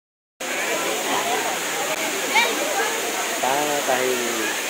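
Waterfall at Nrusinghanath, Odisha, roaring as a steady broadband wash of falling water that fills the whole stretch, with people talking over it.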